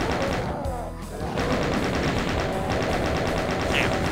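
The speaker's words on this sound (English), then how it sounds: "let's try the chain gun here." A chain gun in the shooter game Ultimate Doom fires in a loud, rapid stream of shots, briefly broken by a lower burst, then carrying on steadily to the end.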